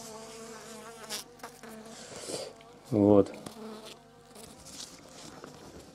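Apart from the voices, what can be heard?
honeybees buzzing around queen cages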